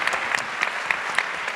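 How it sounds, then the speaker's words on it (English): A university auditorium audience claps in a brief, dense burst of applause, steady and fairly loud throughout. "Let's get a round of applause."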